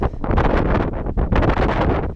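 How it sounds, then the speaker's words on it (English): Strong wind on the Pacific Crest Trail buffets the microphone, a loud continuous rushing roar that surges and dips in gusts with no pause. "It's pretty windy."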